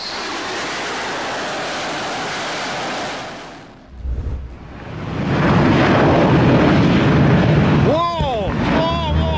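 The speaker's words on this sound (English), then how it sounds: "A Russian MiG touches down on India's biggest warship." A Russian MiG jet touches down on India's biggest aircraft carrier: a loud steady roar and rush, a brief drop, then a swelling heavy roar with whining engine tones near the end.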